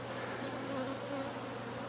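Bees swarm and buzz around a tree being opened up for removal, a steady dense insect drone with a low hum running the full length, fairly close and uninterrupted.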